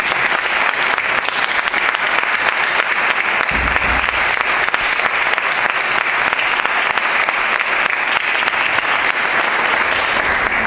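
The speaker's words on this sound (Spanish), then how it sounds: "Yo pido un aplauso fuerte para el actual y para el próximo también alcalde de Béjar" A crowd at a political party candidacy presentation in Béjar gives loud, sustained applause for the mayor, a dense roar of many hands clapping steadily for over ten seconds.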